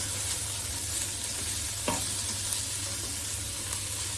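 Vegetables and other ingredients fry in a pan for homemade veg rice, giving a steady close sizzle with one brief scrape of stirring partway through and no voices.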